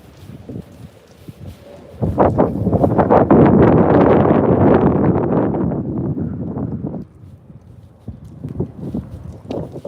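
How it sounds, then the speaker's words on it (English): Gusts of wind buffet the microphone, building to a loud rushing roar for several seconds before easing back to lighter bursts. "It's so windy, it's really just messing my day up"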